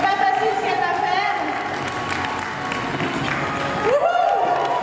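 A crowd applauds and cheers a side-saddle rider at an equestrian demonstration, steady clapping throughout with a voice talking over it and a rising whoop near the end.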